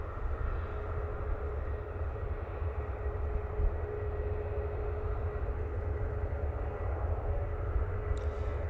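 A Ryanair Boeing 737 MAX 8 airliner taxis at Manchester Airport, its engines giving a steady, moderate low rumble and whine that holds unbroken throughout, with no voices.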